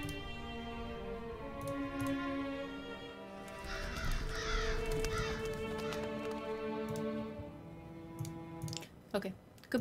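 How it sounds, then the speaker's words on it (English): Crows caw repeatedly in the video game The Last Door, a series of harsh calls over a steady musical drone, with clicking sounds and a loud burst near the end. "Yes, beautiful crows."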